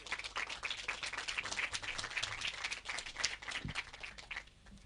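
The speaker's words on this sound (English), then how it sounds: "Let's give them a warm round of applause." Audience applauding at a conference event on farming, a quiet crackly stretch of many hands clapping at a steady pace before it thins out near the end, with no speech.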